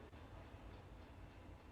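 A train in the Railroads Online simulator game rumbles along at a low, steady level, a quiet continuous rolling drone with no voices over it.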